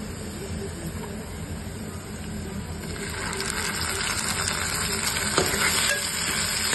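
Tomatoes drop into a frying pan of browned soybean sabji base, and the steady sizzle grows louder and denser as a spoon stirs with quick clinking scrapes; no speech.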